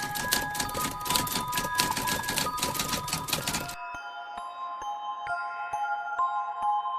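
A typewriter types on its own in rapid, continuous key strikes, then slows to sparse separate clacks with ringing tones under them, like an eerie sound effect with nobody talking.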